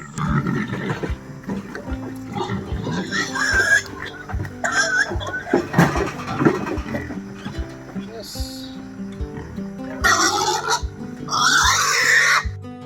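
Fattener pigs on a small farm grunting and squealing in repeated bursts, loud and close, with voices and other background sounds mixed in.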